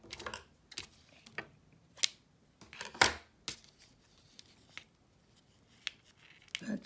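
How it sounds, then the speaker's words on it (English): Scissors cutting through sewing thread at close range, heard as a series of short, crisp snips and clicks spaced irregularly over a few seconds in a quiet room. "I'm gonna have to cut it off."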